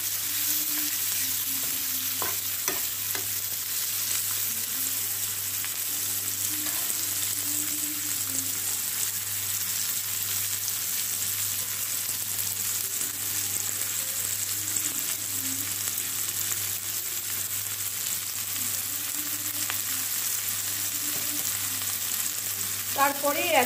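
Spicy chilli fish frying in a pan, a steady close sizzle running throughout with occasional stirring clatter and no talk.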